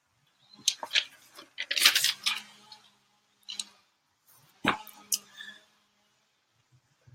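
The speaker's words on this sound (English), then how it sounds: "So you might hear the landscapers going outside." Landscapers at work outside, heard as scattered clipping, snipping and clicking bursts at a moderate distance, with quiet gaps between them and no talking.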